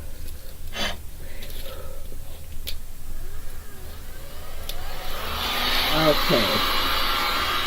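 Heat gun blowing over a fresh resin pour for a St Patrick's Day piece, starting as a soft background airflow and swelling into a louder, close, steady rush near the end, with a brief spoken word near the start.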